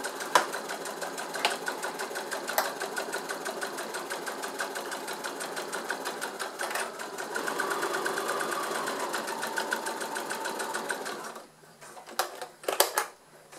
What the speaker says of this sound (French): c'est parti pour ma couture